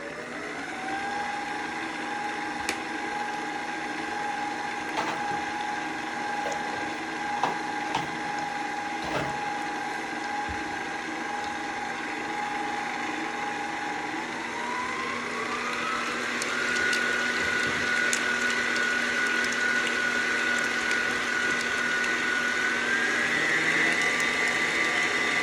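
Electric mixer whirring steadily as an egg is beaten into red velvet cake batter, a continuous motor drone with a pitch that climbs midway and holds, with faint clicks, no talking.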